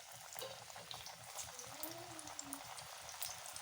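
A piece of chicken dropped into boiling oil for chicken fry, giving a soft, steady sizzle and bubbling that runs continuously, faint and close.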